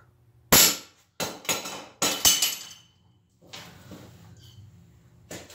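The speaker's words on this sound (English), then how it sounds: "we have the drop test" A Mossy Oak bowie knife dropped from a height onto a hard surface: four sharp metallic impacts with bright clinking, the last two close together, followed by softer scraping and rattling as it settles.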